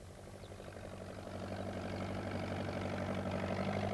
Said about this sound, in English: Peter Fogg came along on his tractor.